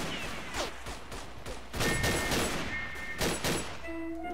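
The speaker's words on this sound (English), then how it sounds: "Come here, I'll give you a taste of this in Luger lead." Luger pistol fire in the World War I shooter Verdun: several sharp shots and impacts spaced a few seconds apart, amid a busy, moderately loud battlefield din with faint tonal tones.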